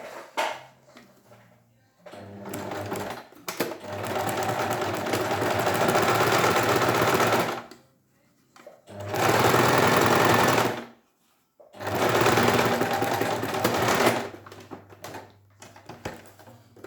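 An electric sewing machine stitches a fabric seam in three long, steady whirring runs of a few seconds each. Short quiet gaps separate them, and the motor hum is close and fairly loud.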